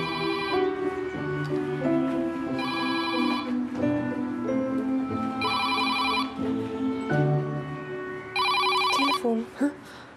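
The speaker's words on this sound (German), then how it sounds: "Telefon." A telephone rings in repeated electronic bursts of bright trilling tones over background music in a 2002 German comedy film scene, each burst loud and separated by short pauses.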